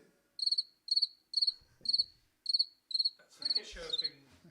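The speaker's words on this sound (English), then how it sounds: "It's a cricket." A cricket chirps in seven evenly spaced bursts of rapid pulses, close and clear against a quiet background, with some rustling and handling noise creeping in toward the end.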